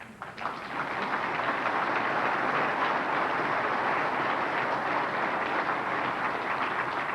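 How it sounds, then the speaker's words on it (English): Sustained, dense applause from a large audience at a hockey hall of fame induction evening, loud and steady for several seconds with no talk over it. "Sure, why not applaud that?"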